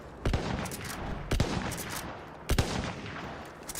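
Three loud, evenly spaced gunshots from Battlefield 1, each a sharp crack with a short rumbling tail, heard alone against a steady background of in-game battle ambience.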